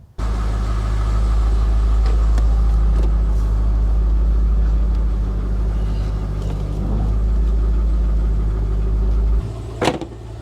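A 1990s Chevrolet Corvette C5 convertible, long left unregistered and abandoned, rumbles with a loud, steady low engine drone close by as it moves out of a garage, then the drone drops away abruptly near the end with a sharp clunk.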